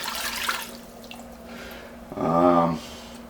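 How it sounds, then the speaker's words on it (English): Two cups of water pour into a pot as the first step of a lobster bisque, a brief steady splash and filling gurgle rising near the end, with a faint hum behind and no talk. "we're going to start out with just 2 cups of water."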